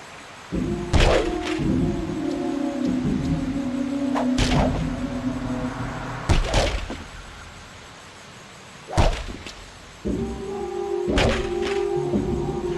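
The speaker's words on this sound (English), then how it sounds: "Press the X button, followed by the modifier, in this case the circle button, to do a more elaborate and powerful combo attack." Combo attack hits in The Mark of Kri on PlayStation 2, played on the PCSX2 emulator: a handful of sharp, heavy thuds and whacks land at uneven intervals over a steady low game drone.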